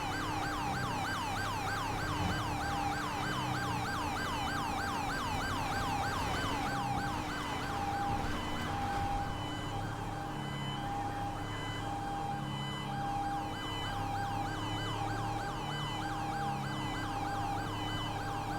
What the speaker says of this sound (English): one of those sirens back there is like a European siren